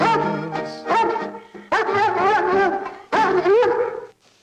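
A dog in a 1960 Mexican film scene gives a few loud, close barks and yelping, whining calls in short bursts, with brief silences between them.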